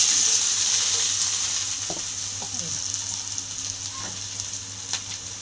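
Onions sizzle steadily in hot oil, a constant crackling hiss broken by a few soft scrapes of stirring.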